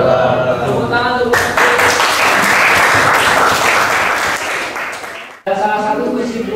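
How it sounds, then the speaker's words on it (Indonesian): A mathematics class applauds after a student presentation: dense, loud clapping from a group of students close by lasting about four seconds, framed by talking before and after. "Tepuk tangan dulu."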